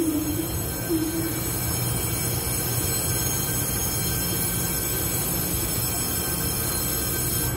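A Taiwanese TEMU2000-series Puyuma Express tilting train, set TEMU2013+TEMU2014, pulls out of Nangang onto track three with a loud, steady rumble of wheels and carriages rolling close by, with no voices.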